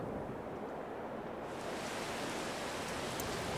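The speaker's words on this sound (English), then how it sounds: "Oh, and it's raining." Rain falls in the farming video game Farming Simulator 22 as a dense, steady wash of hiss that thickens and brightens partway through.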